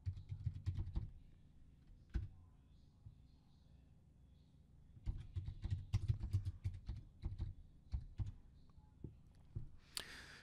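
Typing on a computer keyboard while editing a document in LibreOffice Writer, quick bursts of close key clicks separated by pauses, mostly alone with no talk.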